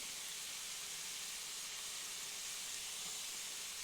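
Onion frying in a pan for pasta, a steady, even sizzling hiss that stays constant and fairly close throughout, with no talk over it.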